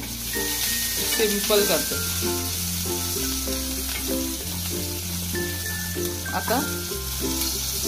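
Crushed garlic and asafoetida sizzle steadily in hot oil for okra, a continuous frying hiss under a woman's speech and music.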